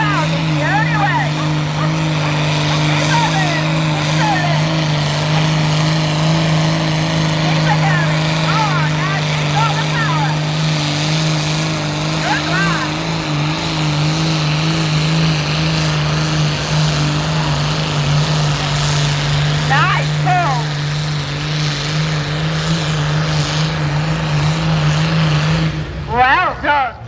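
A vintage tractor engine drones loudly and continuously under heavy boost while hauling a sled in a tractor pull at Shrewsbury Steam Rally, a steady low roar with crowd noise and commentary over it before it cuts off near the end.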